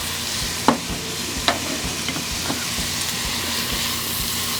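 Onion and finely cut green pepper sauteing in oil and bacon fat give off a steady, loud sizzle with a few sharp stirring scrapes early on, no voices.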